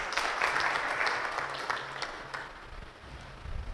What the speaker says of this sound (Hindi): गुड, तालियां लगाओ।